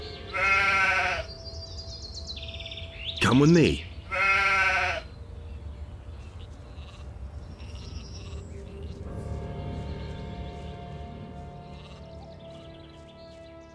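A sheep in the video game Gothic 2 bleats in a few loud, wavering calls close by, with a short spoken line between them, then quieter background ambience.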